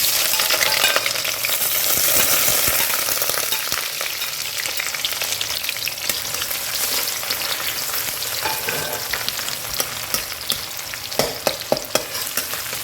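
Chopped onion frying in oil along with bay leaves and dried red chillies gives a loud, dense, steady sizzle up close, with stirring scrapes and clatter becoming more frequent toward the end; no voices are heard.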